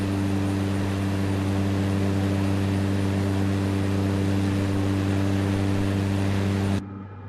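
Steady, loud single-engine Cessna propeller drone in a flight simulator game, a constant close cockpit hum with strong low harmonics throughout, cutting off abruptly near the end.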